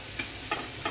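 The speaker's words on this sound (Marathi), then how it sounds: "ते थोडं परतून घ्यायचं गूळ वितळेपर्यंत" Jaggery and grated coconut stirred in a hot kadai for rice-flour modak, with three short scraping strokes spaced evenly apart, faint and close, with no talking.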